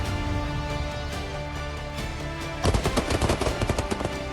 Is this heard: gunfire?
yes